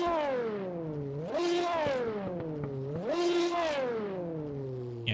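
A race car engine in Assetto Corsa, Ready to Race DLC, heard from the rear: two throttle blips swell into a loud rising howl and sink back to a low idle drone.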